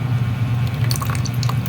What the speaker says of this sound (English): next is, let's pour the coconut milk here.